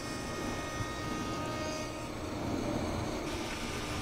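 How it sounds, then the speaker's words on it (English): A thicknesser planing a recycled fence post in a woodworking shop, a continuous loud whirring drone with steady machine tone throughout, no talking. "putting it through the thicknesser"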